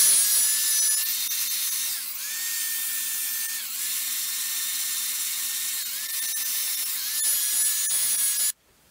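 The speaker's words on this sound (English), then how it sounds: "let's start sanding this thing" A power sander whines steadily against a burl wood and resin piece, a high continuous buzz with slight pitch shifts, stopping abruptly at the end.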